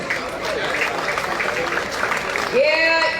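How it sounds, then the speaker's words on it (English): Crowd at an outdoor cycling-for-fitness rally applauding the organisers, a dense patter of clapping mixed with chatter, and a voice rising near the end. "A big round of applause to them, please."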